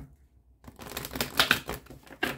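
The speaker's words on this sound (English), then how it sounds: "One last shuffle" Soft riffling and slapping of tarot cards being shuffled, close by and fairly quiet, after a moment of near silence.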